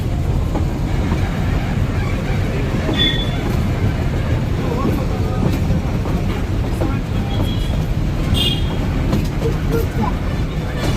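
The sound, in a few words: train reversing toward the station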